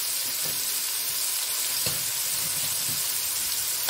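Unpeeled garlic cloves sauté in an oiled frying pan, a steady close sizzle with faint scrapes and small pops from stirring throughout, no voices.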